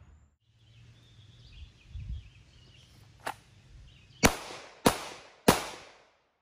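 Three sharp Glock 43X pistol shots fired at cardboard targets after drawing from appendix carry, loud and close, evenly spaced about half a second apart, following a quieter stretch of handling noise and a fainter click.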